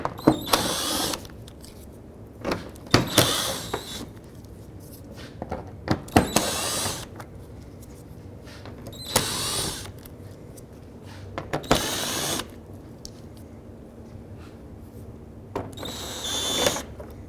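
A power drill whirs in short repeated bursts of a second or so, removing bumper screws on a 2002-06 Toyota Camry, with quiet clicks and handling noises between each run.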